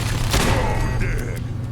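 Turret gunfire in the video game Fallout 4, a dense burst of rapid shots with booming low rumble, loud and continuous over a short span.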